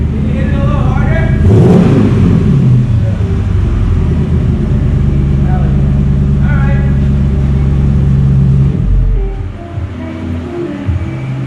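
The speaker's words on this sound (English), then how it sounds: "Wait till you hear it rev up" Upgraded 5.7L V8 engine revving hard, a deep loud rumble that swells and holds before easing off toward the end, with a person talking over it.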